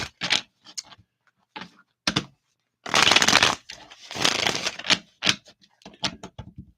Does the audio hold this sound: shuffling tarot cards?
yes